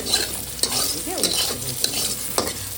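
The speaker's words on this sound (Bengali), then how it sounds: "আমি হলো ডালটাকে একটু নাড়া দিয়ে নিলাম" Pea dal, with fried bitter gourd added, is stirred in a pot in a close, brisk scraping and swishing over a light sizzle, with a few sharp clinks of the spoon against the rim.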